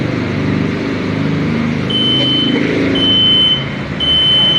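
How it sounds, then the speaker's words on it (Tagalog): A home smoke detector sounds three short, thin, high beeps about a second apart over a loud roomy rumble of background noise. "So, pag narinig nyo to, meron kayo smoke detector sa bahay,"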